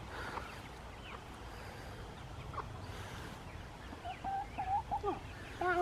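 Chickens leaving a backyard homestead coop, with low clucks and short squawking calls that grow busier toward the end over a steady outdoor hiss. No one speaks.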